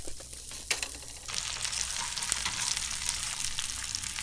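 Breaded tonkatsu pork cutlet fries in hot oil, a dense close crackling sizzle that swells louder after the first second and keeps bubbling steadily, with no one speaking.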